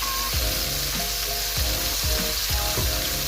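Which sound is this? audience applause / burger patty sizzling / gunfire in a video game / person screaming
burger patty sizzling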